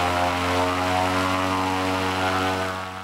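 Blimp engines roar continuously up close with a strong, steady propeller drone and deep harmonic hum, loud throughout and easing slightly at the end, with no talk.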